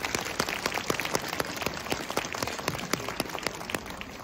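A crowd applauding steadily after a dance offering by maiko at Yasaka Shrine, dense overlapping claps forming a continuous wash of sound with no voices.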